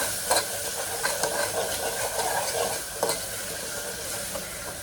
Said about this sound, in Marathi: तर आता मी हा ह्याच्यामध्ये टोमॅटो ॲड करून घेते आणि आपण पूर्ण सॉफ्ट होईपर्यंत व्यवस्थित सगळं फ्राय करून घेते